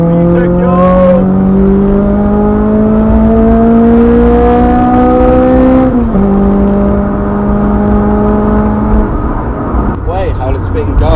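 A Honda Civic Type R EP3 engine revs hard and climbs through the gears in two long rising pulls, loud and close, with a brief shift dip between them and people talking over it.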